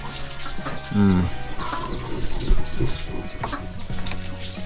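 Chickens clucking amid a busy barnyard clatter, with scattered short calls and a rooster-like squawk over steady background noise.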